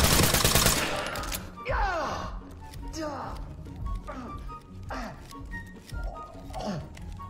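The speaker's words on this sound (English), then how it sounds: "That is a lot of gunfire." Gunfire in a police tactical video game, repeated bursts of shots with sharp cracks and ricocheting tails at irregular intervals, moderately loud throughout.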